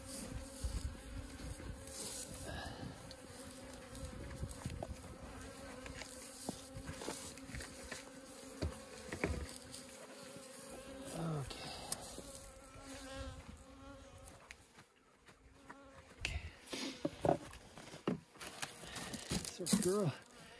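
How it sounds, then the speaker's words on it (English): Bees buzz in a dense, continuous drone around a beehive in late winter, close to the hive with occasional crinkling and handling sounds mixed in. "And the bees, like we know, always find ways out"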